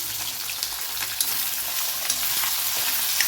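Shallots, ginger and garlic sautéing in hot oil for a squid curry, a steady dense sizzle with faint stirring clicks, close and constant throughout.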